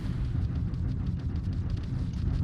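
Explosions rock a small spaceship under fire in the space game Starfield, a dense, continuous roar of booming blasts with no clear gaps between them.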